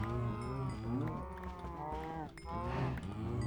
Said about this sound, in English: Yes, hello, cows.